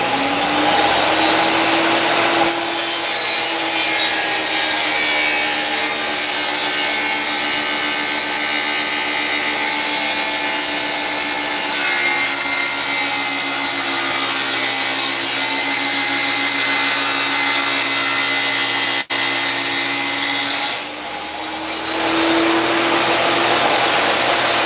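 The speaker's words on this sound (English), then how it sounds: "What do you call this? Table saw." A table saw whines steadily through a long continuous cut in wood, loud and close, spinning up at the start and winding down near the end.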